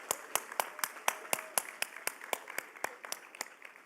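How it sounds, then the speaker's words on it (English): Sparse, evenly spaced claps ring out at a Florida 4-H Hall of Fame ceremony honoring Community Pride Project grant winners, a few hands beating a steady rhythm of about four claps per second, fairly quiet and alone. "Let's give them another round of applause"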